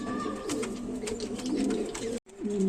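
A pair of King pigeons, a yellow male and a black female, at a pigeon seller's, giving repeated low, throaty coos close by with brief pauses, followed by one more coo after a short silence.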